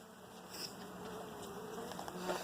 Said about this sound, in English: This one has a large congregation of bees